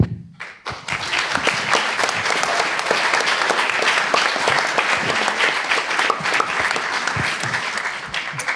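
An audience bursts into sustained, loud applause after a lawyer's closing argument in a mock criminal trial, with dense clapping beginning abruptly and continuing evenly with occasional thumps.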